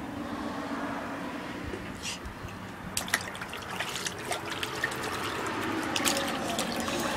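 Outdoor water splashes and trickles continuously with small drips and slaps, joined by a gusty wind rumble and occasional soft voices nearby.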